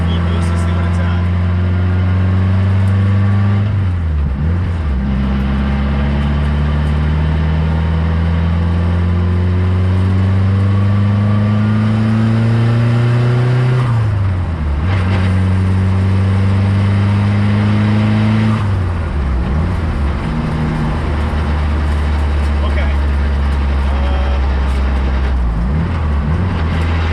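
A Nissan S14 engine fitted with an HKS wastegate warms up, loud and close, its pitch climbing in long rising revs that drop back sharply several times over a steady idle rumble.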